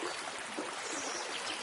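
A forest stream flows steadily in a continuous, even wash of trickling and bubbling water, close and fairly soft, with no voices.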